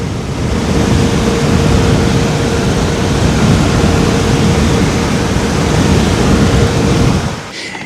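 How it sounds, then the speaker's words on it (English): Thermalright Rainbow Vision 360 TURBO AIO cooler fans spinning at 3000 RPM give a loud, steady rushing roar like a jet, constant until it cuts out just before the end. "if you want to actually hear the actual fans, well, this is where it's going to show up in the video"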